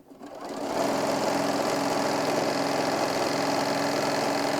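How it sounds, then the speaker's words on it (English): Sewing machine running steadily and close, stitching down ribbon tucked into the fold of fabric while making a hobo bag, a continuous mechanical whir that builds up over the first second and then holds even. "I'm sliding that ribbon into the center, folding over my fabric, and stitching down."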